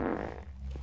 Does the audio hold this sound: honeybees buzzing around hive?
no